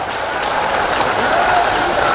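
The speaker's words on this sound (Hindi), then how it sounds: "जोरदार ताली बजा करके स्वागत करो।" Crowd applauding at a religious discourse gathering, a dense continuous wash of clapping filling the whole moment, steady and fairly loud.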